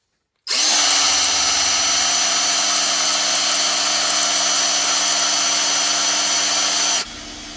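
A power drill primes the oil pump of a Ford Pinto engine, whining at a steady high pitch for about six seconds before stopping abruptly.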